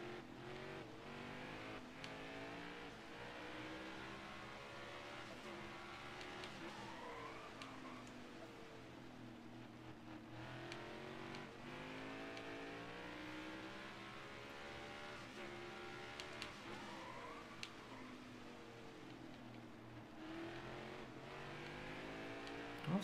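Race car engines circle Martinsville in NASCAR Heat 5, a continuous buzzing drone of a pack of stock cars with rising and falling pitch as they rev through the turns, steady and moderately loud throughout.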